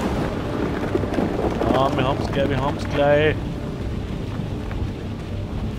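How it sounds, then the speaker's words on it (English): A thunderstorm with rain in the Outlast II video game forms a constant low rumbling, hissing background, while someone speaks briefly over it. "The storm's getting worse."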